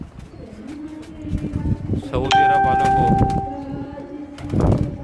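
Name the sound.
Teddy and Rampuri pigeons cooing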